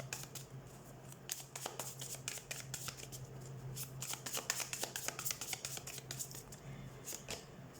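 A deck of tarot cards is shuffled and handled close by, quick bursts of riffling and soft slapping flicks repeating in uneven runs, faint and crisp against a quiet room.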